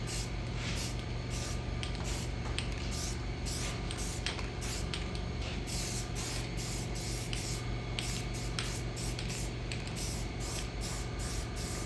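Spray paint hissing steadily onto arcade game parts for Robotron and Sinistar, a continuous close, even spray with a matte finish coat, no pauses and no talking.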